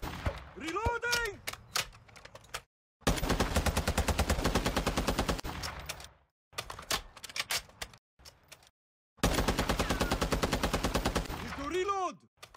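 Machine gun fire in a Minecraft modern military add-on, several long rapid bursts of rattling shots separated by silent gaps, with in-game voice calls between the bursts.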